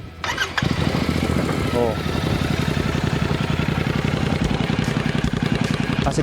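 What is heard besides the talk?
Royal Enfield Classic 650 motorcycle engine starting and idling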